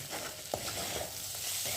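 Okra being stir-fried with masala in a kadhai, pressed down as it cooks for a dry bhendi dish: a soft, steady sizzle with a few light scrapes and taps of the spatula, close but quiet, no talk.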